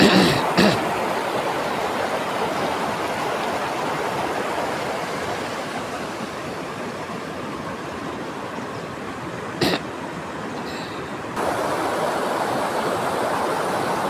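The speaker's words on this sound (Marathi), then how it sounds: "हे बघा कसा खळखळ नदीचं पाणी वाहत आहे." Babbling river water flowing over red sand along a riverbank in Dapoli, Konkan, a steady broadband rushing that stays close and continuous throughout, with a brief knock near the start and another near the end.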